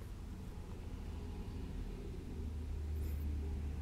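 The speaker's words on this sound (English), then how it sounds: "Again, I'm sorry for the car noise." Car traffic passing outside during an indoor makeup tutorial, a steady low rumble that swells toward the end as a vehicle goes by, faint and distant, with no talking.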